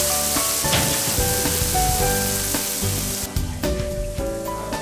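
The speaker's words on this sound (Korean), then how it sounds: "주물에 고기를 올리자마자 연기가 피어오르기 시작하더니 금방 요란한 소리와 함께 먹음직스럽게 익어가기 시작한다." Meat sizzles loudly on a hot cast-iron plate at a foundry staff gathering, a dense continuous frying crackle with scattered pops, close and steady throughout.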